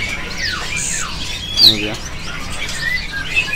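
Young Cucak Cungkok birds at a bird market give short chirps and squawks, fairly close and clear, while someone speaks briefly.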